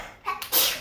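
A single quick sneeze, close and moderately loud, with a short sharp breath burst at the end.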